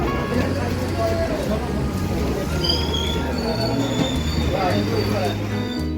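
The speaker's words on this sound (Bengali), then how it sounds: "আমরা দমদম স্টেশন থেকে চারটা একের নৈহাটি বালিগঞ্জ লোকাল ভায়া প্রিন্সেপঘাট এই ট্রেনটি ধরে এই বালিগঞ্জ স্টেশনে নামলাম" Naihati–Ballygunge local train via Princep Ghat pulling into Ballygunge station, a continuous heavy rumble with high wheel squeals rising and falling, and a voice talking over it.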